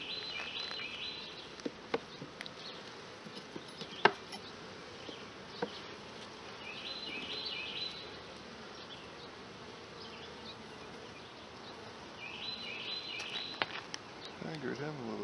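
Honeybees buzz steadily around an opened hive during brood inspection, a dense continuous hum with occasional sharper close passes, while a voice talks now and then over it.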